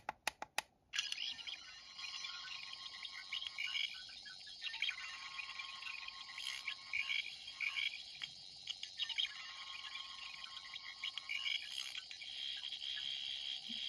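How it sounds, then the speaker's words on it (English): A faint, warbling electronic buzz from a toy Fifteenth Doctor sonic screwdriver, wavering in pitch and pulsing unevenly, preceded by a few quick clicks; close and quiet. "It just sort of goes down one and then back up with this kind of zappy sound effect."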